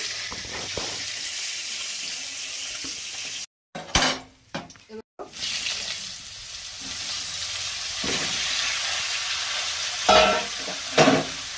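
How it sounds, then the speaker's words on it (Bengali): Potato and cauliflower frying with salt and turmeric in a pan: a soft sizzle under scraping stirs and clinks of a utensil against the pan, with a brief gap and a few louder knocks partway through. "এবার ভেজে নেবো লবণ হলুদ দিয়ে"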